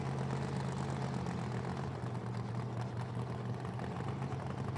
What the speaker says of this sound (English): Paul Harris out here for his second run in this supercharged Corvette.